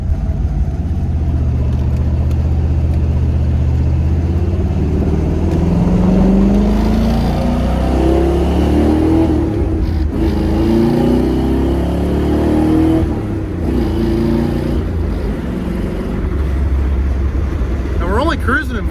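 Steady low drone of a Ford Mustang engine cruising in fourth gear on low highway gearing, a constant rumble with a faint wavering whine as it holds speed, close and continuous while someone talks over it.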